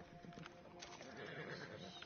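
A horse in a video game whinnies amid clip-clopping hooves, the call rising briefly over a dense, muffled bed of game sound, fairly quiet and without clear speech on top.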